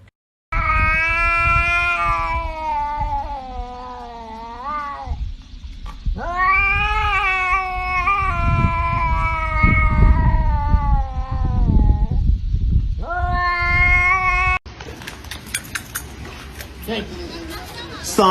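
Several drawn-out, rising and falling cat meows and caterwauls come loud and close in a steady run, with a brief noisy rustle at the very end.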